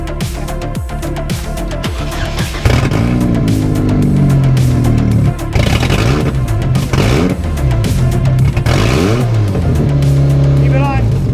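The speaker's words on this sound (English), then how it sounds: "Just let it idle. It'll idle on its own." A Pontiac Fiero fitted with an LS-swapped engine fires up and runs loudly up close, revving unevenly before settling toward idle, with people talking excitedly over it.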